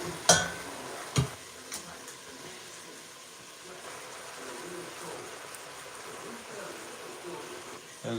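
Tocino frying in a pan, giving a soft continuous sizzle and bubbling with a couple of sharp clatters near the start, heard close and fairly quiet throughout.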